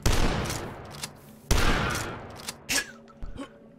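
Pistol fire in the retro shooter Dusk: two loud close shots with decaying reverb tails, then several quicker, fainter pops and clicks.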